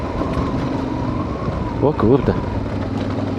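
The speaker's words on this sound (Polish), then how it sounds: "Jedzie następny UAZ." A UAZ off-road vehicle passes on a rough, rocky mountain road near Skhidnytsia in Ukraine's Skole mountains. A steady engine rumble is mixed with wind buffeting, a short louder surge comes as it goes by, and a man briefly exclaims.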